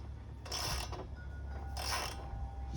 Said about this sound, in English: And now we're just going to take our 13mm socket.